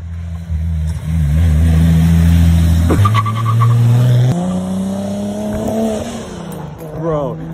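A Toyota Supra engine revs hard in loud sustained bursts, its pitch climbing and dropping as the tires skid and squeal, with a brief chirp near the end; people's voices mix in under the engine.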